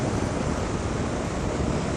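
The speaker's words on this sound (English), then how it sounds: "The wind is a bit cutting at the minute." Cold wind on a back road roars as dense, steady buffeting across the microphone, loud and continuous with no voice over it.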